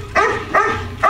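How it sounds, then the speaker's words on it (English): A dog barking in a scene from the film Halloween II, three loud, close barks spaced evenly about half a second apart with no voices. "So it jumps to a shot of a dog barking"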